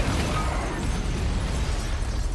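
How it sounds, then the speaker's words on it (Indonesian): A grenade launcher fires in a zombie film, and a dense, roaring blast fills the whole moment with heavy low rumble and crackling debris, loud and continuous, with no voices. "tiba-tiba Scott datang dan langsung menembakkan granat launcher miliknya"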